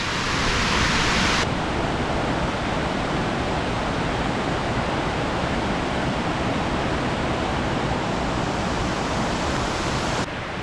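Broad, constant rush of a waterfall on the Cabot Trail in Nova Scotia, a steady roar of falling water with no other sounds, level and unbroken from start to finish.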